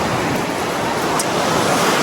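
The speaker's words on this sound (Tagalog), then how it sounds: "Dagat." Sea waves wash onto the Philippine coast in a steady, loud roar of surf, mixed with wind rush, and no voices are heard.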